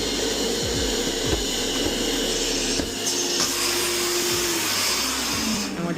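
A carpet extractor runs continuously with a loud, steady vacuum drone and some thumping and shifting as it cleans a neglected Toyota Camry's interior upholstery.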